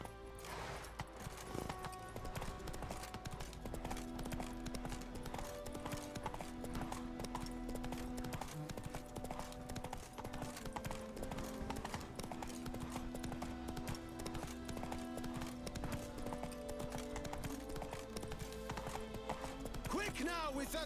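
Roach the horse gallops in The Witcher 3, steady clip-clopping hoofbeats running throughout under loud orchestral game music, with a few snorts and voices mixed in.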